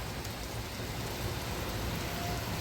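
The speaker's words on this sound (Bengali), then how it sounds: "কুয়াশার মতো বৃষ্টি পড়তেছে আর বেশ ভালো বৃষ্টি" Steady, even misty rain falling outside hisses continuously with no breaks, a soft wash of falling drops without voices.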